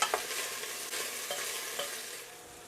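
Zucchini fries in a pan with a steady soft sizzle while a utensil stirs it, giving a few light scraping taps along the way.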